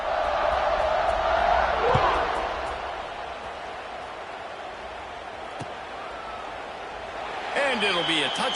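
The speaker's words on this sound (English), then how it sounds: "this crowd is buzzing after that last score" An American football stadium crowd keeps up a steady broad murmur after a touchdown, swelling slightly at the start and end, heard beneath a commentator's voice.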